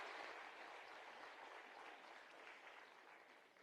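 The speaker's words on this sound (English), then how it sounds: "Another round of applause for our CEO" At a national skills competition closing ceremony, an audience claps for the CEO: a faint, dense, even patter of many hands that fades slowly over a few seconds, without speech.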